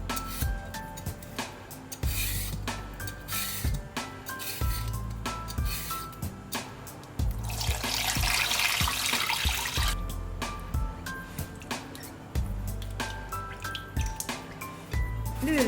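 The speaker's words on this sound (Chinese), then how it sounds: "绿萝卜和红萝卜刮去外皮，加适量清水冲洗干净。" Green and red radishes, scraped of their skins, are rinsed under running tap water, with steady dripping and wet rubbing and squishing sounds near at hand and a louder gush of water in the middle.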